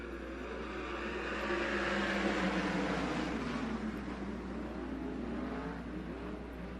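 ASCS National sprint cars race at Devil's Bowl Speedway, their engines a steady distant roar that swells and fades as the field rolls through the turns, heard faintly from afar.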